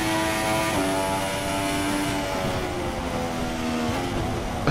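A hybrid Formula 1 car engine in the F1 2016 racing game revs hard under acceleration, a loud sustained whine with rising and shifting harmonic tones and gear-change steps.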